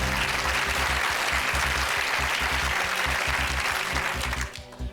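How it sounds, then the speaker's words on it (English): Studio audience applause on a televised quiz show, steady dense clapping that fills the room before thinning out near the end. "she's sort of clapping very cautiously"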